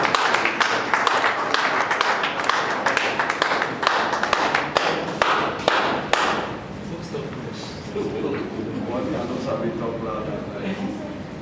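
Audience clapping at a Nigerian media association event as the president takes the podium: brisk, crowded applause for about six seconds, then it stops and a voice speaks.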